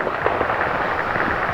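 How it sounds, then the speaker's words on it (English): Fireworks bursting from many directions around a crowd before a professional fireworks show, a dense, steady rumble of distant pops and crackles with no clear single blasts. "there's fireworks going on about 20 directions around us"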